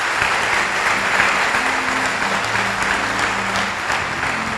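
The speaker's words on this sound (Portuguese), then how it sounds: "Dê um aplauso a Jesus se você recebe no coração" A church congregation applauds steadily and loudly for the whole stretch, a dense wash of clapping with no voice on top.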